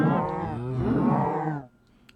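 A cow in the Minecraft video game lets out a single loud, drawn-out moo that falls away into quiet.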